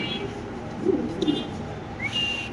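Soft, low coos of Lahori pigeons in two short bursts, fairly faint, over a steady background with a thin whistling tone near the end.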